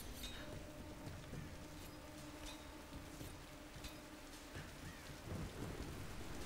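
Thunderstorm in the Tomb Raider video game: steady heavy rain hiss with low rolling thunder rumbles throughout, swelling louder near the end.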